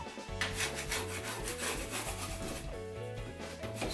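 A scraper drags across a wall patch, scraping ridges of drywall compound off in a steady, continuous rasping that runs the whole time over a constant low background.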